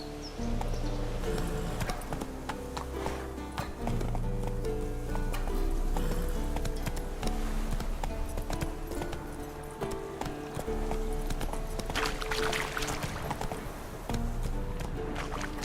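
Horse hooves galloping in The Witcher 3 on the Death March difficulty, a steady rhythmic drumming of clip-clops under a busy game soundscape, continuous and fairly loud throughout.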